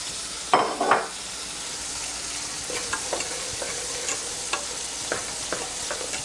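Argentine red shrimp sizzle as they are stirred into a gumbo roux, with a few louder scraping stirs near the start, then steady frying hiss and light clinks close by.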